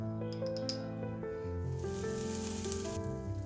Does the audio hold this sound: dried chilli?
yes